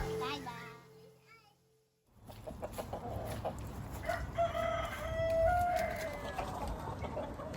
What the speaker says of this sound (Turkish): Bugün diğer horozlarımızı da saldık aralarına